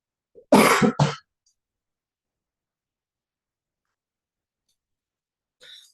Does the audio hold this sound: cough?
yes